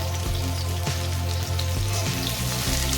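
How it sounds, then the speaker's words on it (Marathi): Mushrooms frying in oil give a continuous dense sizzle with scattered soft pops and clicks, close and steady, over a low background hum. "मशरूम आहे ना फ्राय करून घ्यायचे आहेत"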